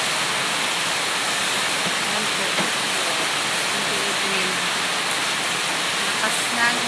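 Heavy rain pours down in a steady, dense roar that fills the whole stretch without a break, with faint voices buried underneath.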